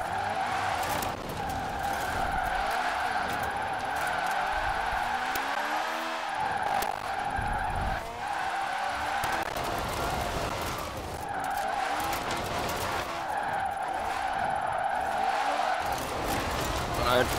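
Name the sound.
Citroën 2CV car skidding while drifting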